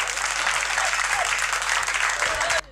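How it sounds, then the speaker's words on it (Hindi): A crowd applauds loudly and continuously, a dense wash of clapping that cuts off abruptly at the end. "एक बार तालियां बजा दो जरा जोरदार"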